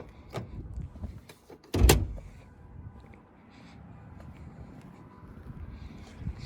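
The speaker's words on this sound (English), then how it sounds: "Let's pop the hood." The hood of a Dodge Durango Hellcat is popped open with one loud, close clunk, preceded by a smaller click from the release. Faint rustling and quiet movement follow.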